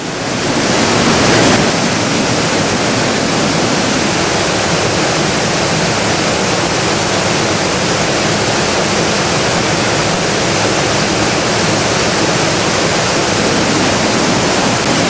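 An underground river rushes through the Vallorbe caves, a loud, steady, dense roar of water echoing in the cavern, continuous throughout with a faint low tone in the middle.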